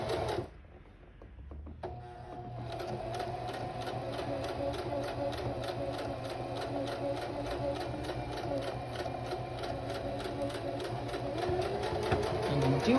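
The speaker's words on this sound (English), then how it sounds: "hopefully what happens is the zigzag stitch goes on either side of the wire" A sewing machine runs a steady, fast zigzag stitch over the nose wire of a fabric face mask, its even mechanical chatter close and continuous after a brief start.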